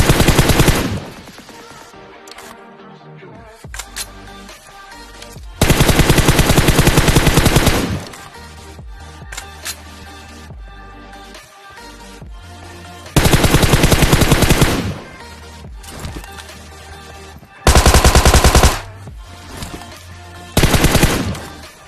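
Bursts of automatic gunfire from a battle royale video game, solo against squads, with long loud volleys separated by quieter stretches of game sound and no talk.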